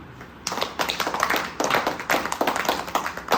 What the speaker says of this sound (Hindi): तो ताली बजा उसके लिए।